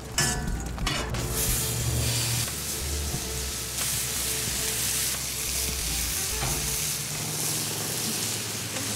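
Food sizzling and frying in a hot pan on a grill, a loud steady crackling hiss with occasional stirring scrapes, close up and continuous, with no talking.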